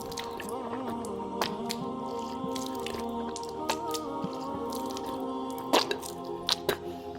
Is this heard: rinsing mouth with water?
yes